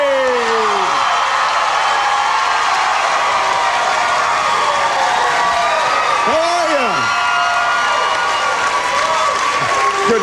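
Dense, continuous roar of a large outdoor crowd cheering and applauding at a Thanksgiving Day parade, with whoops rising above it and a voice speaking over the din.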